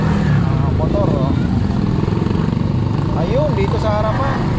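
Motorcycle moving through busy road traffic near an accident scene, its engine drone continuous and fairly loud under steady talk and surrounding vehicle noise.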